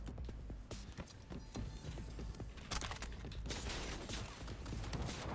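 Gunfire in Cyberpunk 2077, a rapid run of sharp shots rattling over a busy game background, quiet and steady, with denser firing later in the stretch.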